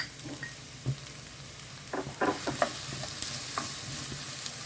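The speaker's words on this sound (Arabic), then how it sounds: "دابا غنخلي البصله تقلى مزيان حتى طيب" Red onion frying in oil in a pan, a steady low sizzle broken by scattered crackles and soft stirring scrapes, close and moderately quiet, with no voices.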